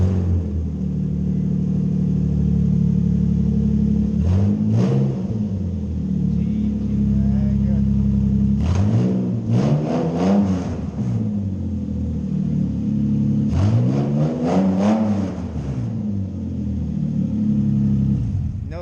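A Honda car engine idles with a steady low rumble, then is revved in several short bursts, each climbing and falling, close and loud, with voices nearby.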